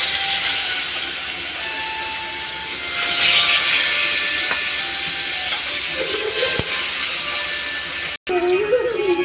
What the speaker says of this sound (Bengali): এবার তেলটা গরম হয়ে গিয়েছে। মাছগুলো ম্যারিনেট করা রাখা মাছগুলো ভেজে নেব।